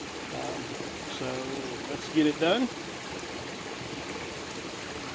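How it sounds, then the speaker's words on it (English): Creek water flowing in a steady soft wash through the whole stretch, while a person talks briefly over it partway through. "We're doing this at the creek quite a bit away from the camp"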